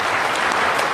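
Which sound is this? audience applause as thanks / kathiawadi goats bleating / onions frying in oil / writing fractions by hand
audience applause as thanks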